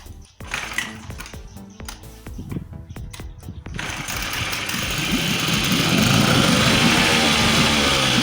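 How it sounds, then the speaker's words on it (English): An outboard boat engine, being prepared for winter on land, clatters through a few start attempts and then catches, running steadily and growing louder with a dense, rough drone. "And now it's just to get the engine started."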